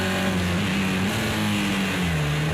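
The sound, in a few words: race car engine shifting gears in a racing video game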